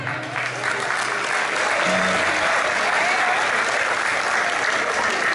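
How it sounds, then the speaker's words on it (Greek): Enthusiastic audience applause at an outdoor summer festival awards ceremony in Pella, Greece, a dense, steady clapping that swells to full strength and holds loudly throughout, with no speech over it. "Ένα χειροκρότημα."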